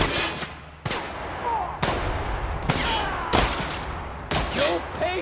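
Gunfire in The Outer Worlds: a rapid fusillade of sharp shots in repeated bursts, loud and close, with voices shouting faintly among the volleys.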